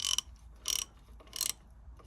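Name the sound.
ratchet with 13 mm socket tightening on an Audi A6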